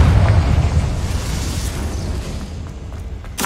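Confringo fire spell blasting in Hogwarts Legacy, a loud rumbling explosion with a deep booming body that gradually decays, followed by a brief sharp burst near the end.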